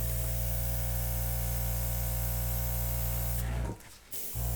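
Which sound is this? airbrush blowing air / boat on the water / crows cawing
airbrush blowing air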